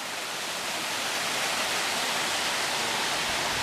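The Salto de la Loca waterfall in Puerto Rico roars as a dense, steady rush of falling water, close and continuous with no voices.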